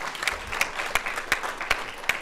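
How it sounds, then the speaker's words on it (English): Sparse audience clapping closes a panel discussion on data privacy and internet governance, with a soft wash of hands and a few sharper, evenly spaced claps standing out, fairly quiet overall. "So we'll clap for them."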